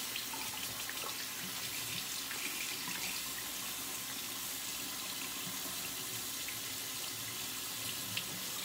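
A tap runs steadily into a sink to add water back into shaving lather, a continuous close hiss and splash with no talk over it.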